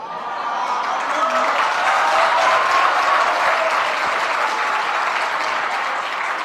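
An audience applauds steadily for several seconds, a dense, even wash of clapping from a large crowd at a religious discourse, with a few faint voices underneath.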